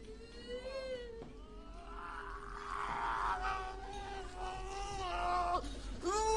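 A boy cries in an eerie, reverberant sound effect: wavering, sobbing wails rise and fall repeatedly, swelling louder midway and ending with sharp catching breaths.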